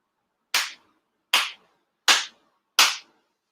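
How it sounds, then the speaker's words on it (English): Four sincere ritual hand claps during a Konko shrine grand ceremony, sharp and loud, evenly spaced about a second apart in a quiet hall, each ringing briefly. "4 sincere claps along with the head officiant"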